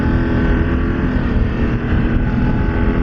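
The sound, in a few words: BMW F 900 GS Adventure motorcycle engine riding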